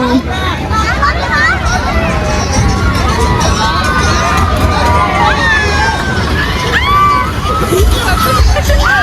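A dense crowd presses through the Kharbav village fair, with loud, continuous babble, shouts and calls close around the listener the whole time.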